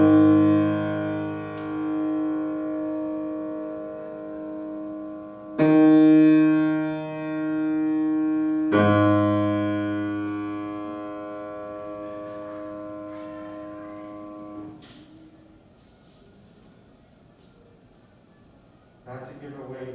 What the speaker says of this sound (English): I hope you hear the Flintstones in that